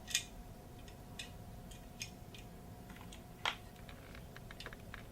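Metal printing type dropped letter by letter into a composing stick, sparse sharp clicks and ticks at irregular intervals, close and fairly quiet over a faint steady hum, with no talking.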